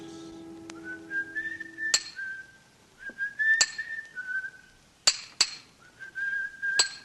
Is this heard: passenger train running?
no